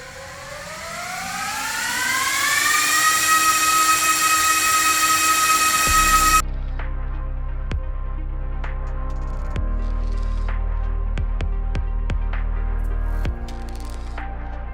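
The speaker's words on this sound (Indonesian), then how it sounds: "Sekarang, mari kita nyalakan server ini." A Gigabyte R183-series AMD Epyc Genoa 96-core server powers on: its fans whine up steeply in pitch over about six seconds, then settle into a loud, steady hum with scattered clicks.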